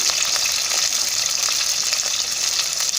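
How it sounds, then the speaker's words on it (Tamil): Shallots and dried red chillies fry in hot oil with a steady, dense sizzle and crackle, close and continuous for the whole stretch with no voices. "வெங்காயம் நல்லா பொன்னீர் ஆகிற வரைக்கும் வறுத்துக்கோங்க"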